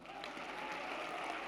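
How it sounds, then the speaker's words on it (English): Applause from a graduation ceremony audience at the University of South Africa, a steady, dense wash of clapping throughout the moment, fairly distant and even in level. "Can we give them an applause?"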